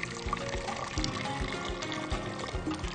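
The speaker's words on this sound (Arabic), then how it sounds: "واحط عندي الكوبايتين اتنين من الميه" Water poured from two cups into a cooking pot while making a mozzarella cheese sweet, a steady close pouring stream with no talk over it.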